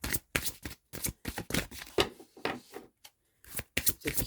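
A deck of tarot cards being shuffled by hand: a quick series of crisp, close riffling bursts with short pauses between them and no talking.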